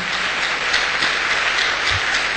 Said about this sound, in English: Let's clap our hands together for Jesus.